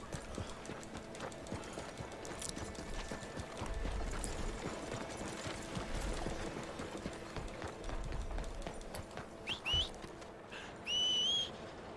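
Horse hooves clip-clop steadily in Red Dead Redemption, a moderate trotting rhythm heard throughout, with a couple of sharp whistles near the end and no talking.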